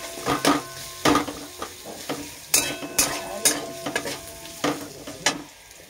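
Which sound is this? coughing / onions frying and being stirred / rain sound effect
onions frying and being stirred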